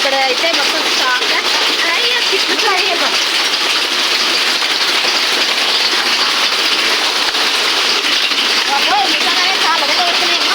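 A hailstorm in Hyderabad, a dense, continuous roar of hailstones and rain pelting surfaces nearby, steady and loud throughout.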